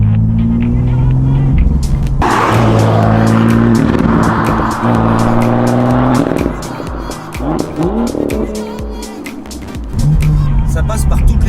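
A 2018 BMW M2 M Performance's engine and exhaust rev and roar with shifting pitch, burbling and rising through the gears, loud and close, while someone talks over it.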